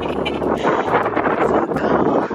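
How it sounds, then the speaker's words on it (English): Wind blows steadily across the microphone on a snowy New Year morning, a loud, continuous roar and buffet with no clear voices. "the wind is kicking too."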